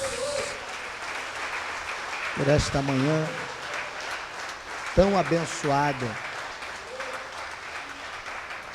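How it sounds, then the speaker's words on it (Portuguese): Church congregation applause during a family worship service, a steady broadband patter running through the whole stretch beneath a voice speaking over it at moderate loudness. "Quantos podem aplaudir a Jesus"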